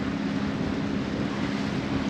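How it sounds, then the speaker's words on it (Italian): Steady, muffled wind rushes over a boat, a continuous low roar with a faint engine drone underneath. "Il vento comincia a soffiare"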